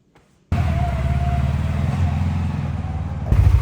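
CFMoto UForce 600 utility vehicle engine starting up in snowy weather, then idling with a steady low rumble, close and loud, with a sudden rise in level near the end.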